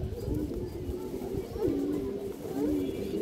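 A purple-necked female pigeon coos in soft, low repeated phrases, close by, over a murmur of background noise.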